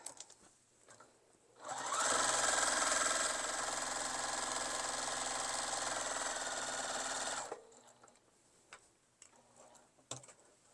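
A sewing machine quilting a fabric tote gift bag runs in one steady, fast, even whirr for about six seconds, close and loud, then stops, with quiet room sounds before and after.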